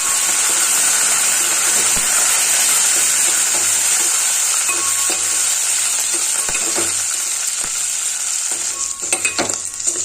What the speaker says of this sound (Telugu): అల్లం, పచ్చిమిర్చి, కరివేపాకు కూడా ఫ్రై అయిపోయినాయండి